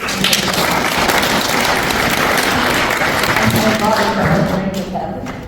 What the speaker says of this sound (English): I would give them a big round of applause.